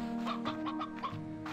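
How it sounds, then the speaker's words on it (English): Slime Rancher 2 chickens cluck in a quick series of short, close calls over a steady background hum, with no one talking. "Okay, we also have chickens."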